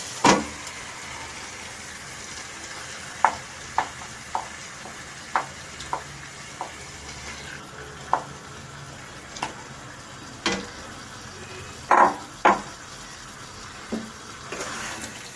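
Chicken is stirred into cooked spice paste in a pan for a home chicken curry, giving a soft sizzle under a series of distinct scraping and clinking spoon strokes, spaced irregularly, fairly close and with no talking.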